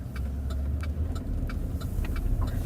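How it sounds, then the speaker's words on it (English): A truck rolling by on a road, a moderate mid-level engine rumble with faint ticking clicks, steady throughout and heard alone without talk. "there was a truck there"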